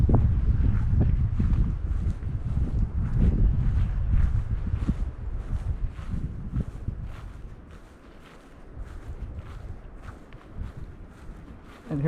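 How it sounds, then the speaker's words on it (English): Wind gusts outdoors at the historic Hughes House in Oregon, a steady broadband rumble buffeting the microphone that eases off near the end, with faint footsteps or movement mixed in. "We got a little wind going."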